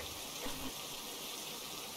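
Water running steadily from a tap in the horror game Phasmophobia, a constant soft hiss and gush without voices.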